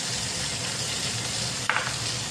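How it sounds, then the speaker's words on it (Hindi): Ginger garlic paste and tomatoes fry in a pan for aloo ki kutliyan, giving a steady close sizzle all the way through. Midway a brief clatter of stirring cuts in, and no one speaks. "और इनको अच्छी तरह से भून लेंगे।"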